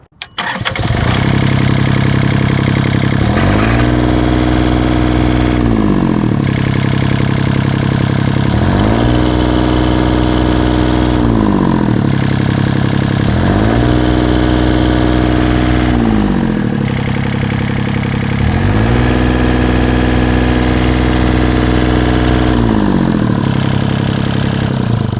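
A Takeuchi TB135 compact excavator weighing 8,000 pounds starts up and runs loudly and close. Its engine drone rises and falls in regular revving cycles every few seconds, with no voices over it.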